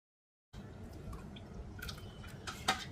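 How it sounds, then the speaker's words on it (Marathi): Drumstick soup being poured through a sieve, with a faint, soft trickle and scattered drips and small clinks close by. No one speaks. "हे गाळून घेऊया, म्हणजे जे मोठे मोठे तुकडे राहिलेले असतील ते चाळणीवरती राहतील"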